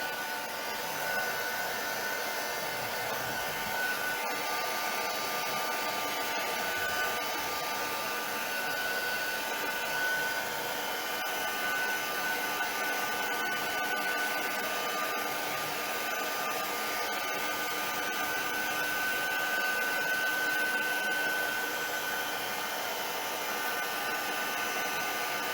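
A hair dryer blows steadily to dry wet paper cards, a constant close whooshing hum that holds without pause from start to finish and has no voices over it.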